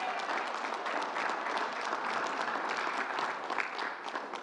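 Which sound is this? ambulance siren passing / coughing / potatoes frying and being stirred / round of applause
round of applause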